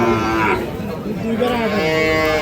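A dairy cow moos loudly and close by at a cattle market, a long drawn-out low call with a second moo following, over a busy background of crowd noise.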